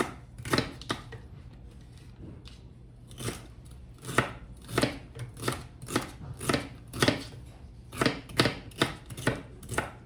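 A knife chops vegetables for chicken noodle soup on a cutting board: about fifteen crisp, close knocks in an uneven rhythm, with no talking.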